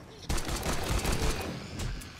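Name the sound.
gunfire in the video game 7 Days to Die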